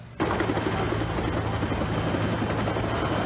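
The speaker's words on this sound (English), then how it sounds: "A rescue helicopter from the Los Angeles County Fire Department arrived within 12 minutes." A Los Angeles County Fire Department rescue helicopter starts abruptly and keeps going with a loud, steady, throbbing rotor chop, close and continuous, with no voices over it.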